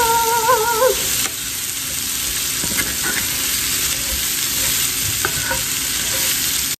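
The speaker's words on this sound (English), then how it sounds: "Go ahead and give this a stir and let those veggies start to cook down some." Smoked sausage, potatoes, onion and bell pepper sizzle loudly in a skillet, a dense close-up frying hiss broken by stirring scrapes. Brief tonal warbles come through at the start.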